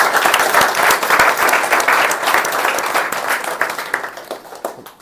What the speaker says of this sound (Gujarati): જોરદાર તાળી પાડજો ભાઈ.